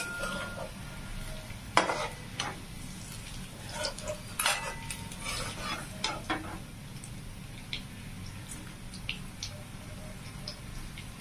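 Frying in a pan with stirring: a soft continuous sizzle runs beneath scattered metallic scrapes and clinks of a utensil against the pan, close and irregular over several seconds, no speech.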